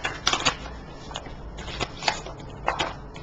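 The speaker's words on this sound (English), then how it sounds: "I shuffled them and I kind of just mixed them up to make sure that they weren't" Tarot cards being shuffled and mixed by hand, giving a run of soft papery riffles and slaps at an irregular rhythm, close up and fairly quiet, with no talking.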